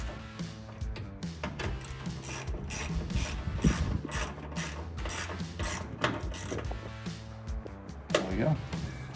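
Tail light screws being snugged down on a Jeep Gladiator JT during an LED tail light install, giving a steady run of clicky ratcheting and mechanical ticks close by over about nine seconds, with a faint voice now and then.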